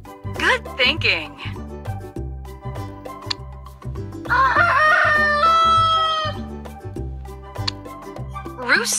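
A rooster crows loudly over a steady, rhythmic music backing, with brief higher animal-like calls at the start and end.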